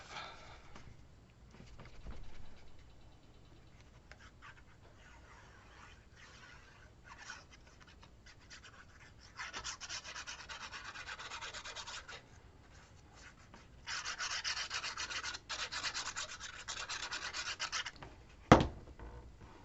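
Glued paper being rubbed clean on an accordion-fold album, a soft dry scraping that comes in bursts, louder stretches around the middle and near the end, with one sharp tap just before it stops.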